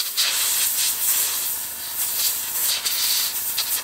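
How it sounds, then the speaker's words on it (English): An airbrush blows air to dry a washed Shimano Ultegra bike brake caliper, a continuous close hiss with slight pulsing surges throughout. "gamitan ko na lang siya ng airbrush para"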